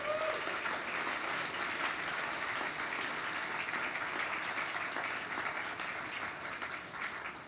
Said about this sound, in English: So quick round of applause for Supply Frame.